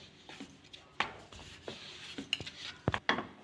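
Dough for an egg tomato paratha is rolled out on a board, giving soft scrapes and scattered light knocks and clatters with uneven timing, fairly quiet and close.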